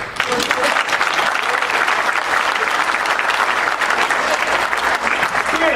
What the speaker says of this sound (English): You got to give him another round of applause